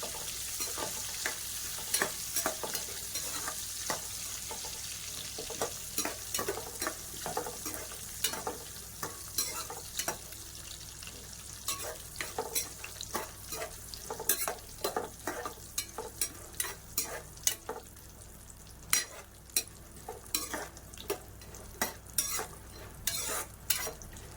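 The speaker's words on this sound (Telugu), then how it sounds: "బాగా ఫ్రై చేసుకోండి. బాగా ఫ్రై అవ్వాలండి." Grated carrots frying in a pan for carrot halwa, a soft continuous sizzle under many quick, close scraping stirs that grow sharper and more frequent, with no voices.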